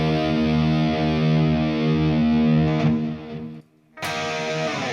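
Electric guitar through an Axe-FX on a preset, a loud, distorted sustained chord ringing out, then a brief cut to near silence before a fresh distorted chord strikes and holds.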